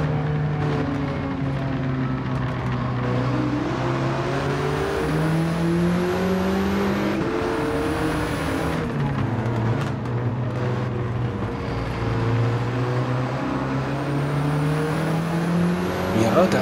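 Porsche engine in a racing video game, revving steadily with rising and falling pitch sweeps as gears change, loud and continuous throughout with no talk.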